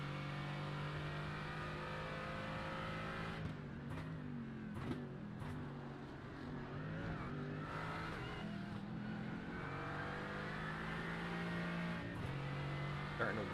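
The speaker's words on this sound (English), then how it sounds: "These cars, the Mercedes sound the most like a muscle car." Mercedes race car engine in a sim racing game at Silverstone, droning steadily and loudly throughout with shifting revs and gear changes.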